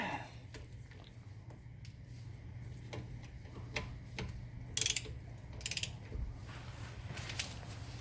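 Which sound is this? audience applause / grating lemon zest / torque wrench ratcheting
torque wrench ratcheting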